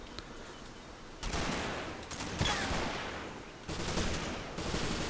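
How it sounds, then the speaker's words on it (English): Heavy machine gun fire in the wargame Combat Mission during a Market Garden campaign battle, sustained rumbling bursts that are somewhat distant and muffled and rise and fall over steady background noise. "heavy machine gun"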